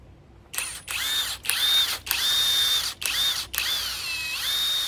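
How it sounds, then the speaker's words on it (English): A SEES II cordless impact gun tightens a lug nut on a trailer wheel, giving several close, loud whirring bursts of about half a second each, separated by brief pauses. "Tighten this one up with a gun, you saw that"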